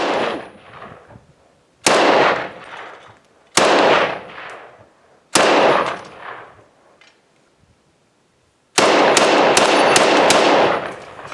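A Norinco T97 Gen III rifle fires four single sharp shots at spaced intervals, each with a decaying echo, then a rapid string of several shots close together, loud and near.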